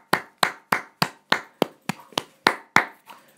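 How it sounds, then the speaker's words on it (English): Eleven sharp, evenly spaced claps from a single person, close and fairly loud, each a crisp percussive smack with a short pause between, no voices. "Round of applause for this guy."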